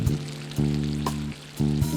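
A fish head cooks in a hot Cantonese clay pot with celery leaves, coriander and red pepper, giving a close, steady sizzle with rhythmic bursts of sharp crackling, no talking.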